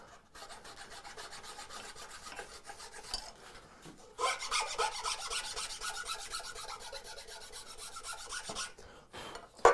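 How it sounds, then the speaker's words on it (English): A woodworking file rasps back and forth across wood while making a turning saw, producing steady rhythmic scraping strokes that grow louder and busier midway, close and without talk. "File takes off very little, very slowly."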